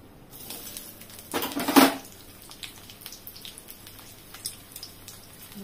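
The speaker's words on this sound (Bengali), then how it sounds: "পেঁয়াজটাকে একটু ভাজা ভাজা করব" Onions with black cumin seeds frying in a little oil give one short, loud burst of sizzling, then settle into faint, scattered crackles.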